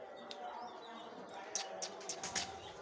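Pigeons coo softly with a few small chirps while eating in a quiet outdoor setting, with faint background murmur behind them.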